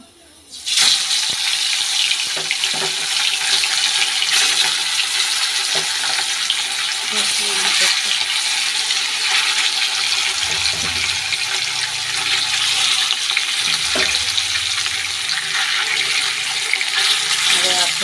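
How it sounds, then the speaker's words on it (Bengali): Constant loud hissing sizzle of fish frying in hot oil, with a few faint clicks and scrapes and a low voice now and then. "এই যে মাছটা ভেজে নিচ্ছি এখন"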